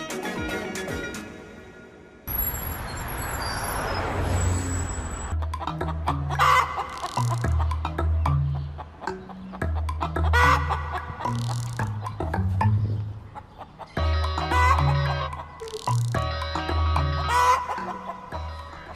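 A rooster clucks repeatedly in short, close, loud bursts, with a sharp clatter and rustle early on before the clucking settles into a steady series.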